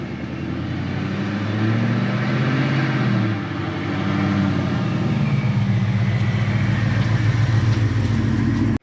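A car engine running rich just after a cold start, fitted with a Bassani exhaust, holds a steady, loud idle with a brief swell in revs partway through.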